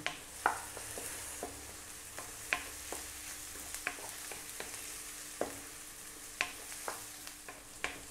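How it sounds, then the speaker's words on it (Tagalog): Hotdog pieces sautéing in a pan for Filipino spaghetti meat sauce, a soft steady sizzle broken by regular sharp scraping knocks of a spatula stirring against the pan, no voices. "Gigisahin ko lang po siya ng mga 2 minutes."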